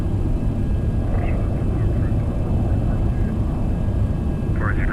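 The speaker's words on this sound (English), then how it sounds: "Noisy plane coming in. 737." Boeing 737 engine noise in the X-Plane 12 flight simulator, a steady, dense roar without pauses, with faint brief chirps drifting above it.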